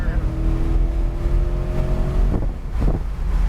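A Chevrolet Corvette C8 Z51 engine rumbles low and steady at a racetrack, then revs up in a couple of quick rising bursts near the end, with wind buffeting the microphone.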